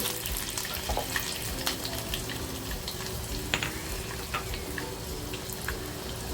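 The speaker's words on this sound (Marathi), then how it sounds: "तेल छान तापलं ना कड़कडी की लसूण टाकायचे" Garlic frying in hot oil in a kadhai on a gas stove while cooking a curry-style masala: a steady, close sizzle with scattered sharp crackles and pops throughout, and no talking.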